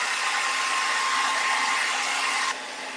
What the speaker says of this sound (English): I'm going to go ahead and dry this with a hairdryer